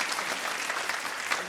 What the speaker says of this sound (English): let's give a round of applause to Edward and Michelle